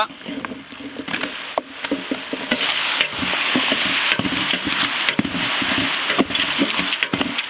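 Ground masala for chickpea usli is stir-fried in a pan, with a loud, close sizzle broken by repeated rhythmic scrapes and clatters of a spatula against the pan, continuing without pause and with no talking.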